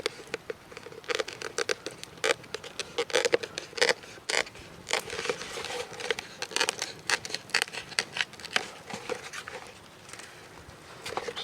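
Material being trimmed in a straight line off a handmade moose caller, a dense run of fine, close snipping and scraping ticks with irregular rhythm and no talk.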